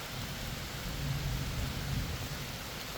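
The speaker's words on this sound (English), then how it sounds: "Here's some thunder in the distance." Distant thunder rumbles low and steady beneath a constant wash of rain on a day hike, with no voices.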